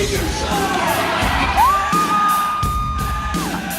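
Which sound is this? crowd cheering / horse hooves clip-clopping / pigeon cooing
crowd cheering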